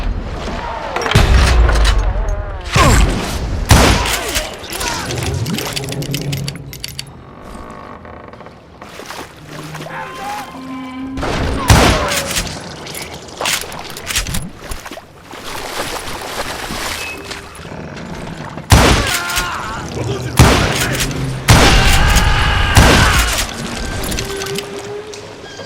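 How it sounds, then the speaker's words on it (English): A fusillade of gunshots rains down in the Western shooter Call of Juarez: Gunslinger, with sharp, loud cracks and booms in irregular clusters over ambient game sound and occasional narration. "a fusillade of bullets come raining down from on high"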